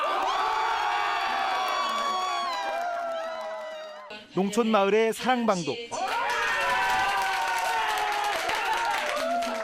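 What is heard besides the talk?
people cheering and clapping at impeachment verdict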